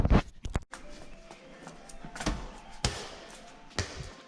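Basketball bouncing on a small court nearby, a few sharp dull thumps scattered through the clip, moderately close and irregular, with background clatter between the impacts.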